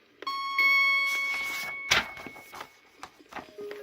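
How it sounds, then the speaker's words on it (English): A page-turn chime from a 1985 My Little Pony read-along book record rings out as bright, bell-like tones that sustain and slowly decay, followed by a few softer scattered notes. "Don't forget to turn the page every time you hear the chime."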